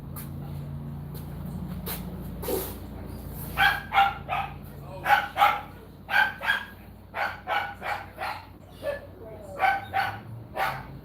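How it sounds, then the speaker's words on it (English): Several dogs bark in repeated short bursts, loud and fairly close, with occasional yips between barks over a low background hum. "What y'all barking at?"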